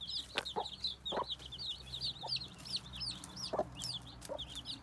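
A hen clucks in low, scattered calls near her nest while a crowd of her chicks peeps continuously in high, rapid chirps, all fairly faint outdoors.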